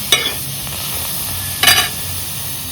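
Potatoes frying in oil with spices, a steady loud sizzle and hiss throughout, broken by a couple of brief stirring scrapes, with no voices.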